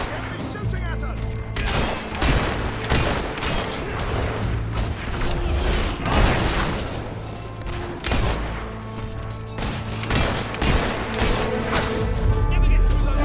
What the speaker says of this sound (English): Enemies shooting at us!